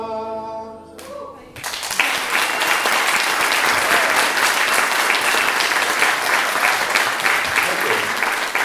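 Loud, sustained audience applause at a live music show, rushing in after a brief sung phrase and continuing steadily as a dense wash of many hands clapping.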